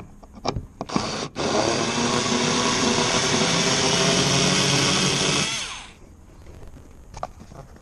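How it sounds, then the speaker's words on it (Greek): A power screwdriver backs out a screw from the interior door panel of a Citroën C4 Coupé, whirring steadily and loudly for about four seconds after a few short clicks and taps, then winding down. "Βγάζουμε το μέσα τη βίδα."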